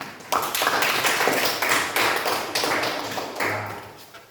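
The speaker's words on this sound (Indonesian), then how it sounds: "Bagus, tepuk tangan" A vocational school class learning network cabling claps together, a dense burst of many hands in a room, steady at first and then gradually tapering off, with a brief low hum near the end.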